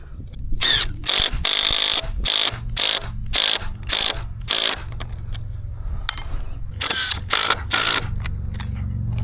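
Johnson screws are driven into boards with a power drill on a sidewalk pour job: a series of loud, close, whirring bursts, about a dozen short runs with brief pauses between, over low outdoor background rumble.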